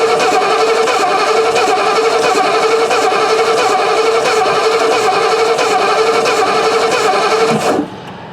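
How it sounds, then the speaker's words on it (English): The starter motor of a 1955 Ford Fairlane Victoria cranks the engine in a steady, rhythmic churn, loud and close, for about eight seconds before it cuts off. "Careful not overheat this starter."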